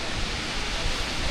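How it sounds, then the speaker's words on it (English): A waterfall rushes in a steady, dense wash of noise, constant and unbroken, with no voices over it. "There's a waterfall."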